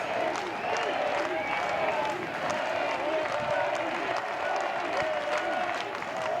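Louisville home crowd at a 2025 NCAA baseball super regional game against Miami, a steady wash of cheering and applause that holds loud and unbroken throughout.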